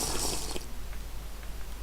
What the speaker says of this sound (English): So what I'm going to do is drink my potion of underwater breathing.